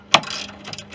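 A ratchet works on bolts holding the airbox plate of a 2016 Chevrolet Silverado 2500HD, with one sharp metallic click followed by a quick run of softer ratcheting clicks, close and alone.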